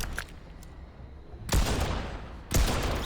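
Assault rifle and Mammoth pistol shots in Fortnite: two sharp, loud shots about a second apart, each with a brief rumbling tail, over a low game background.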